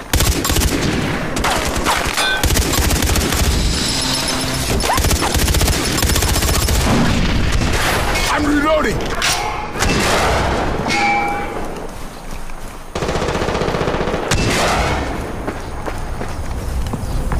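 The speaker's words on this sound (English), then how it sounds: "The pirates are dropping barrel bombs." Far Cry 4 multiplayer match with barrel bombs exploding and heavy fusillades of gunfire, dense loud bursts and booms filling the scene, with brief quieter gaps and footsteps.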